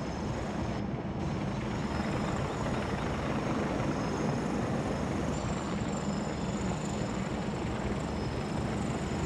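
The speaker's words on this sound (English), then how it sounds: "It's good to get a little chopper action in once in a while, hey?" Helicopter flying in the Farming Simulator 2017 game while hauling big trees for logging, a steady, loud broadband rotor and engine drone that holds constant throughout with no talk.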